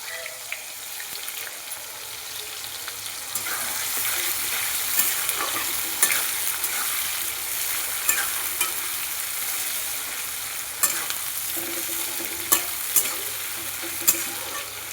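Chopped raw onions frying in hot oil over whole spices such as cloves, stirred in a pan, give a steady close sizzle with scraping strokes and occasional sharp clinks of the spoon, no voices.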